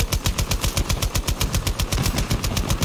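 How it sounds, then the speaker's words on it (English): A light machine gun in Battlefield 2042 fires a sustained, rapid burst of evenly spaced shots, loud and close, with no voices over it. "I was shooting it down my LMG."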